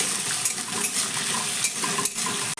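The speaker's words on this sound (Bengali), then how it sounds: "আলুগুলোকে নাড়াচাড়া করে ভেজে নিতে হবে" Potatoes fry on high flame with spices and garlic as they are stirred, giving a continuous close sizzle broken by soft spatula scrapes and a clink near the end.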